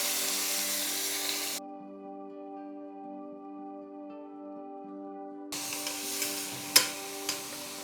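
Mutton frying in a pan, with a loud sizzle that cuts out for several seconds and then returns alongside stirring clatter, and no talk.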